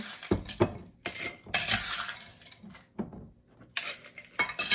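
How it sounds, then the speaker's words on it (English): Ice cubes drop into a metal cocktail mixer in several bursts, clattering and clinking close by, with short pauses between scoops. "we're gonna fill our mixer up with ice"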